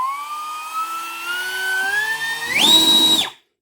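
A high-pitched electric motor whine from a cheap cordless blower rises steadily in pitch, spikes louder near the end, then cuts off abruptly.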